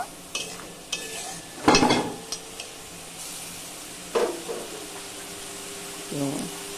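Masala with a little water simmering and being stirred in a pan for an okra curry, faint bubbling under a few loud, separate scrapes and clatters of a spoon, with a short voice-like sound near the end.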